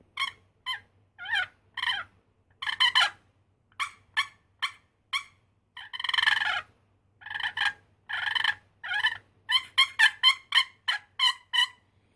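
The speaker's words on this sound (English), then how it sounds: "If you want to use it as a hen call, just use one edge." Rapid series of high, raspy turkey hen yelps from a wooden box call, played in quick bursts with short pauses, close and loud, no talking.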